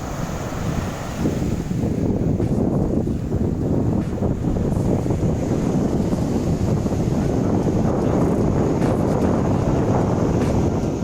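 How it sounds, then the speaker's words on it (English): Steady sea wind and surf on a Los Angeles beach along the Pacific coast. Heavy wind buffets the microphone over a constant roar of breaking waves, loud and unbroken throughout. "the sound of crashing waves and the ocean"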